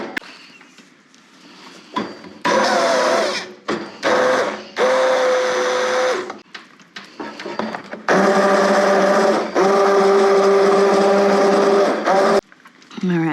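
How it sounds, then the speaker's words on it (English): A stick blender whirs through butternut squash and leek soup in loud bursts, starting and stopping repeatedly with short pauses between, the longest run near the end. "Throw a stick blender in there and blend that together."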